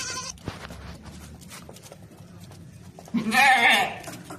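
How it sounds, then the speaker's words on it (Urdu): A large Makhi Cheeni goat lets out one loud, wavering bleat near the end, close by, after a stretch of quiet farmyard background with scattered small noises. "اعلیٰ کوالٹی والی مکھی چینی بکری ہے"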